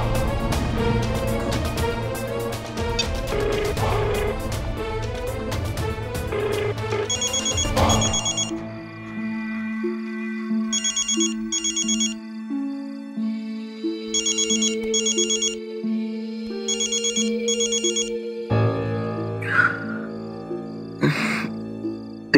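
A telephone rings in a Hindi TV drama scene with a repeating electronic ringtone melody. The ringing sounds in regular bursts over dramatic background music and carries on for about twenty seconds, with no talk.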